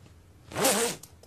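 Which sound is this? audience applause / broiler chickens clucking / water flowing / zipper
zipper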